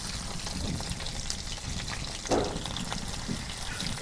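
Pomfret fish fry in plenty of hot oil with a constant, close sizzling hiss, a short bubbling surge midway and no speech over it.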